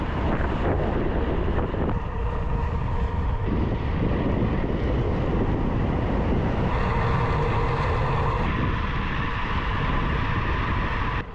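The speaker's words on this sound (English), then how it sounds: "it's windy again. Yep, it's a headwind." Strong headwind hits a cyclist's microphone on a long ride, producing a loud, continuous roaring rumble that surges and shifts in intensity throughout, with no talking.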